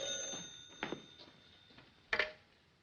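A telephone rings in a 1940s film-noir interior, faint bursts of bell-like ringing repeating at intervals against quiet background.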